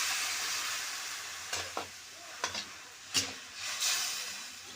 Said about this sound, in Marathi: याच्यामध्ये कढईमध्ये पाणी टाकणार बघा शिजण्यासाठी बटाट्यांना